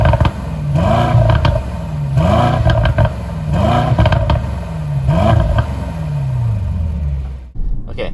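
A 2021 Mercedes-AMG GLE 63 S with its loud exhaust mode on revs repeatedly, four or five rising engine blips with rumbling exhaust, heard close up before a brief drop at the end.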